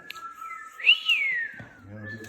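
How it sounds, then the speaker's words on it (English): A child gives a single whistle that rises, peaks and then slides down, with a softer tone held underneath. Faint voice sounds and low murmuring follow afterwards. "Can you whistle?"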